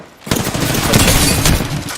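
Dense video-game gunfire erupts in a battle royale match, a loud, close burst of rapid overlapping shots and impacts that continues steadily for almost two seconds after a sudden start.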